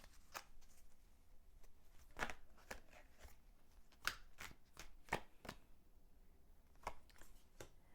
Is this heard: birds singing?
no